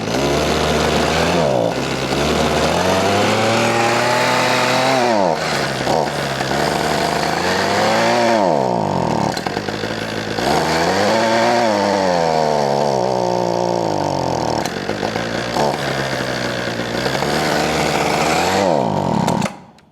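A Redmax HTZ2460 hedge trimmer's small two-stroke engine runs loud and close with the choke on, its buzzing pitch repeatedly rising and sagging as the throttle surges and bogs.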